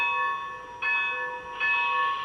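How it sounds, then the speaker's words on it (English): A model cab-forward locomotive sounds its electronic bell as a sustained, bright ringing tone that swells louder in two steps, fairly close, with no talk. "I'm trying the bell"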